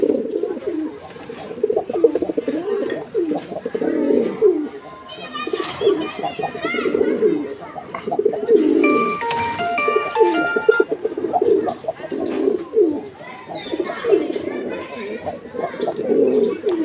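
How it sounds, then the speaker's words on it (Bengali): Male pigeon at a pigeon farm cooing in repeated rolling bursts close by, with other birds chirping and children's voices in the background. "প্রিয় দর্শক, আপনারা দেখতে পাচ্ছেন যে নরটার যে ডাক, মাশাআল্লাহ একদম অসাধারণ একটা নর, ভরপুর ডাকের একটা নর"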